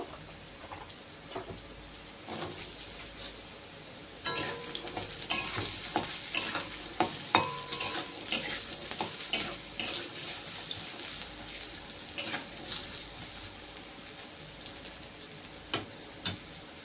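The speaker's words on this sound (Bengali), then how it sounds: "দিয়ে দেব আলু কুচি। আলুটাকে আমি খুব ভালো করে ভেজে নেব।" Chopped potatoes fry in hot mustard oil in a wok, with a continuous sizzle and repeated scraping stir strokes that grow busier and louder partway through.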